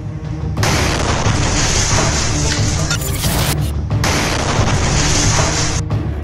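A loud, sustained blast-like roar of an IED exploding under an armored military vehicle, with heavy low rumble and dense broadband crackle, briefly surging in the middle before easing off near the end.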